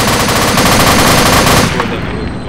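Loud automatic gunfire in the ArmA 2 military video game from a soldier shooting while lying prone, a dense rapid burst that runs continuously and then cuts off into a fading echo.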